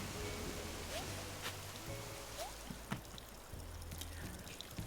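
A soft, continuous pouring rush of a waterfall in the video game Animal Crossing, quiet and steady with faint game tones and small clicks layered over it.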